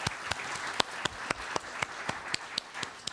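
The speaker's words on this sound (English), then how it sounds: "Round of applause." An audience applauds steadily for a few seconds at a Dole Institute event, dense clapping with sharp individual claps standing out, and no talking over it.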